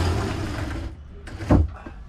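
A sliding door on a Supermarine Swordfish 36 boat rolls open with a steady rumbling slide, then ends in a short louder knock as it stops, close by with no talk.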